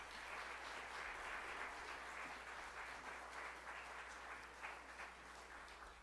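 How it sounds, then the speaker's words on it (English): Applause from the audience at a Christmas student recital and concert, a continuous, fairly faint and distant wash of clapping from a crowd that stays level throughout. "Let's give one more round of applause to their amazing talents."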